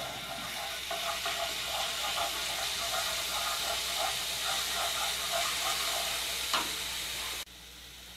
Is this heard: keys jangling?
no